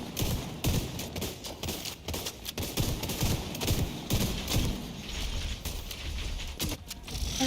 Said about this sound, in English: Shoot his gun, shoot his gun.